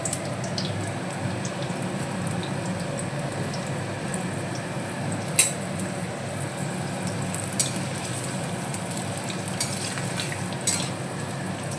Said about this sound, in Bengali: এই যে আমার আলুটা ভাজা হতে থাকে।